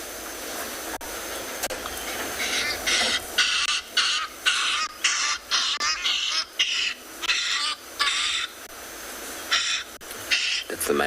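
A male bird's call played back from a recording on a morning safari drive in South Africa: repeated loud bursts in a steady rhythm over roughly eight seconds, standing out against a constant low background hum.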